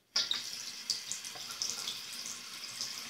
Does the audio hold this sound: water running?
yes